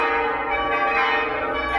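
Several church bells ring together in a dense, continuous clangour that is loud and unbroken throughout, with overlapping peals and no voices.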